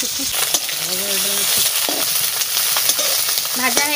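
Sweet ripe banana pieces fry in a pan with a loud, constant sizzle, broken by sharp clicks and scrapes of stirring.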